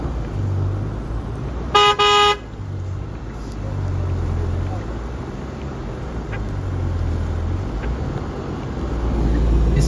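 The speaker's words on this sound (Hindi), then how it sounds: "इन्हें हॉर्न दें ताकि" A car horn gives one short, bright blast on a snowy road in Murree during heavy snowfall, set against a low, steady engine rumble and road noise that continue throughout.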